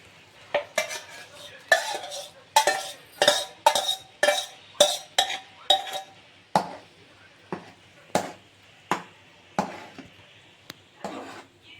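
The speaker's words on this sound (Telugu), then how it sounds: "ఈ పెసరపప్పు మిశ్రమాన్ని ఈ బెల్లం పాకంలో వేసి కలుపుకోవాలి" Cooked moong dal mixture being mixed into jaggery syrup for payasam, a run of about a dozen sharp metallic knocks and scrapes of a spoon against a pot, close and fairly regular.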